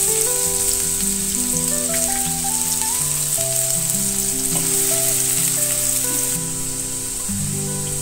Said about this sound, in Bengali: তেল গরম হয়ে গেছে। আমি যে চপ অনিয়ন করে রেখেছিলাম সেটা দিয়ে দিলাম।